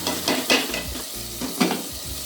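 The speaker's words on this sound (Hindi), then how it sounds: "मैं हरी मिर्चें साथ डालूँगी इसके, ताकि इसी के साथ भून जाए मसाला।" Keema masala with green chilies sizzles in a pot as an aloo keema is cooked, a dense frying hiss broken by a few quick stirring scrapes and spatula knocks, close and wordless.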